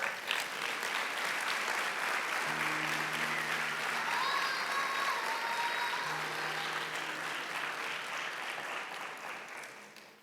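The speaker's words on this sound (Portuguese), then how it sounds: "você pode aplaudir Jesus?" Church congregation applauding in a sustained, dense wash of clapping that holds for several seconds and then fades, with brief voices and a few sung tones mixed in.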